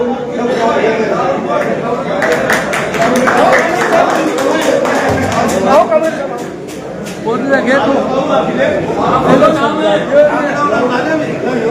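Applause and crowd chatter at a stage ceremony honouring a respected elder guest, with dense clapping building through the middle over a steady background of voices, loud and close.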